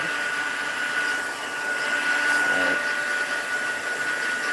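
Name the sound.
heat embossing tool running for crafts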